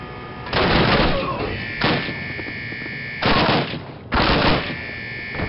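Submachine gun fire in a Call of Duty game, four loud close bursts of rapid shots separated by brief pauses over a steady background hum.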